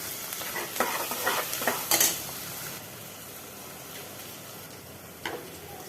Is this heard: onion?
yes